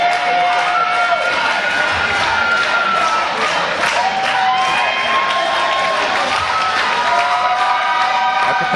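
A capacity crowd at an indoor independent wrestling show cheers and shouts continuously, a dense, loud roar with whistles and scattered high yells sustained throughout.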